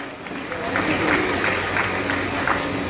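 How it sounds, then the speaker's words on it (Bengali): Audience applause fills the hall at a community Durga Puja award ceremony, a steady, dense clapping that holds evenly throughout at close range, mixed with crowd murmur. "বলার আগেই করতালির আওয়াজ শুনতে পেলাম।"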